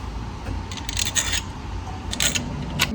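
A wrench snugs up the bolts on a Ford Fiesta ST gearbox shifter linkage, giving short bursts of close metallic ratcheting and scraping between quieter pauses.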